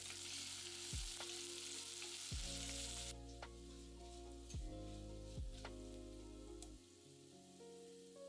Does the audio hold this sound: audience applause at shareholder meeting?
no